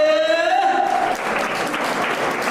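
Audience applause at a Karnataka state gem award ceremony, a loud, dense burst of clapping from a crowd that swells in as a sustained tone fades out, then continues steadily.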